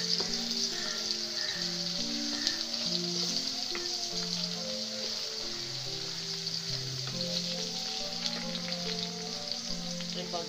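Dried fish (shutki) frying in a pan gives a steady, close sizzle throughout, with soft crackles and a faint background tone, and no one speaks.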